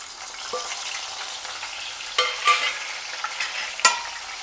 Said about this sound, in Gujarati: અને ક્રિસ્પી થાય ત્યાં સુધી તળી લેશું.